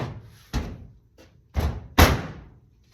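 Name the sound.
door of a toolbox being closed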